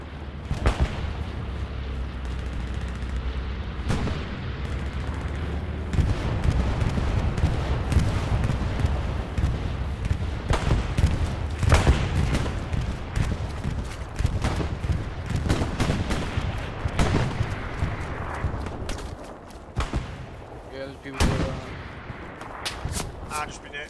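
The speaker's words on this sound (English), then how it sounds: "Watch it, we're taking fire." Gunfire in the World War II shooter game Hell Let Loose, a dense stretch of rifle shots, bursts and heavy booms crackling continuously, with occasional voices over the battle noise.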